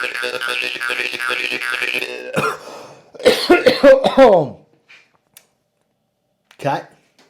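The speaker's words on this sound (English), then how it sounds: "Had a coughing fit." Harsh, repeated coughs burst out close to the mic in a short fit, followed by quiet and one more brief cough.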